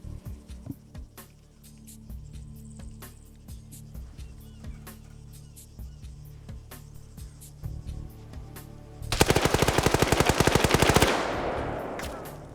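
Arma 3 gunfire during a PvP tournament match: scattered single shots pop through the first half, then a loud, rapid automatic burst lasts about two seconds before fading out.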